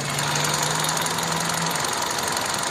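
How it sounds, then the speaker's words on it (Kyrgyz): A Kia Rio engine, heard with the hood open, runs at a steady idle as a dense, continuous hum with a low tone that drops out partway through, close and fairly loud, no talk. "Мотордун үнү чөткө иштеп турат."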